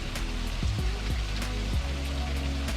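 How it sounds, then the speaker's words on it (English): A park waterfall beside a pond gives a steady, full-bodied rush of falling water with constant spray, heard up close and alone without talk. "There was, though, this lovely waterfall to see."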